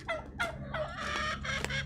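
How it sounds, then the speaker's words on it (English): Several turkeys gobbling in quick, rattling bursts close by, with no talking. "The turkeys say hi."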